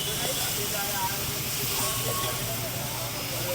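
Hot oil tempering for vagharelo rotlo sizzles in a pan at an Ahmedabad street food stall, a steady dense hiss running unbroken and fairly loud throughout.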